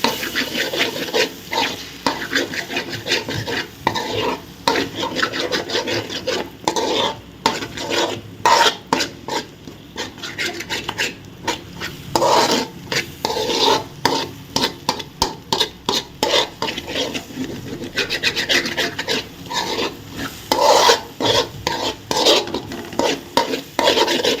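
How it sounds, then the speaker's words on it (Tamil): Egg and masala being stirred in a pan, with steady, close scraping and rasping of a spatula against the metal. The strokes are dense and repeated, with a light sizzle underneath throughout. "இப்போ இந்த மசாலாவை இந்த மாதிரி நல்லா மிக்ஸ் பண்ணிக்கலாம்"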